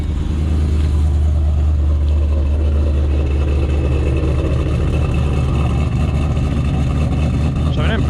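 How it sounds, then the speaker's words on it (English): A Ford GT500 engine rumbles loudly and steadily at idle right after a cool start, a deep continuous exhaust drone close to the microphone with no talk over it. "All right, let's give ourselves a nice little cold start."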